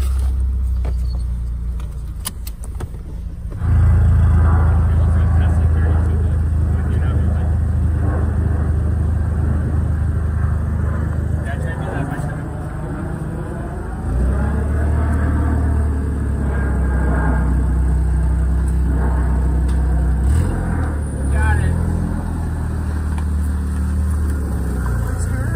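Honda Fit with a swapped L15B7 engine cranks and catches, then settles into a steady, close-up idle rumble that carries on with small swells and dips, with no one talking over it.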